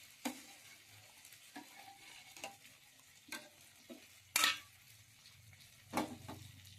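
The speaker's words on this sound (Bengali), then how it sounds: "তাই অল্প করেই রান্না করছি মাংস ভাজা আর মুসুরি ডাল" Meat frying in a pan gives a quiet sizzle, broken by sharp intermittent scrapes and clinks as a utensil stirs it, with a few louder knocks.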